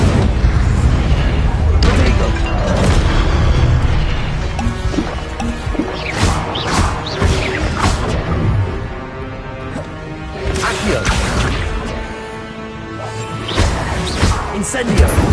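An Incendio fire spell is cast during combat in Hogwarts Legacy, bringing loud, repeated crashing blasts and booming impacts that roll on across the whole stretch with game effects layered over one another.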